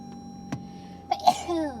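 A single sneeze bursts out close by partway through, with a short vocal trail after it and a faint tone running underneath.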